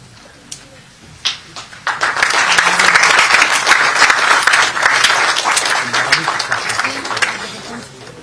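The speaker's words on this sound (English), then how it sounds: "let us welcome this occasion with a round of applause once again" Audience applause at an MoU signing ceremony for the Goa State Higher Education Council, rising after a quiet start of scattered sounds into sustained, loud clapping that continues steadily to the end.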